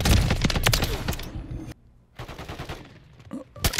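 TAC M marksman rifle firing in a video game, a rapid burst of loud close shots that cuts off, followed by a brief gap and then more scattered shots with a final loud crack.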